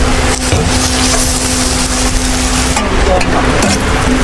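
Onions frying in a pan for caramelized onion, a loud steady sizzle with stirring scrapes throughout.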